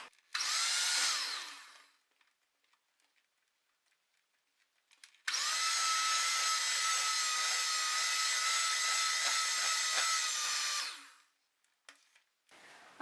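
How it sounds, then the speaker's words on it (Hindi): Muffin batter is beaten after flour goes in, heard as two bursts of a whirring electric hand mixer, a short one and then a longer steady run of about six seconds, close and loud with silence between. "अब इसमें डालेंगे मैदा, दोबारा से थोड़ा सा बीट करूंगी।"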